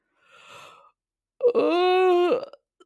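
A reader's voice imitates a bear's yawn: a soft breathy intake, a short pause, then a long, loud, drawn-out moaning yawn that trails off, close and alone.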